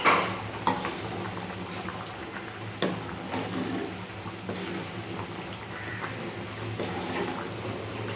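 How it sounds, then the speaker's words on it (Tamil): A steady bubbling simmer from a pot of coconut curry with lentil dumplings, continuous and fairly loud, with occasional clinks and pops near the start. "நல்லா கொதிக்கட்டும்"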